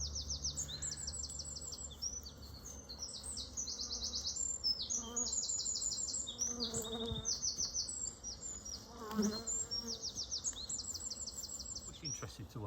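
A dense, steady buzzing of many honey bees settles into newly arrived colonies at a Derbyshire queen-rearing and bee improvement group's apiary, loud and close throughout, with a few faint chirps in the background.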